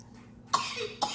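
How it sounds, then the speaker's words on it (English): A child coughs twice in quick bursts, close and fairly loud, after gulping juice too fast. "Oh, somebody's coughing. He's drinking too fast."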